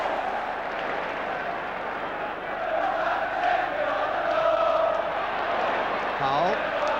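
A football stadium crowd applauds and roars for the players after a goal, a dense sustained wash of clapping and cheering that swells partway through, with a voice talking over it.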